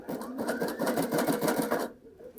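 A Sashiko sewing machine stitching in a fast, even mechanical rhythm for a couple of seconds before stopping, close and clear.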